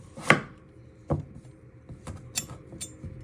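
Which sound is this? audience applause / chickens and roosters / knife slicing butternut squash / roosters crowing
knife slicing butternut squash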